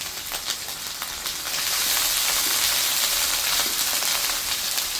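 Garlic paste hits a hot pan and fries, the close, loud sizzling hiss swelling after a brief start and then holding steady.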